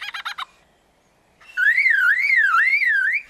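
A lyrebird imitates a car alarm. After a few clipped chuckling notes and a pause, a loud, close, wavering electronic-style siren tone sweeps up and down steadily on its own.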